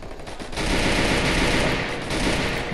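Rapid automatic gunfire rattles in a shooter video game, a dense, loud burst of shots sustained for a couple of seconds with no talk over it.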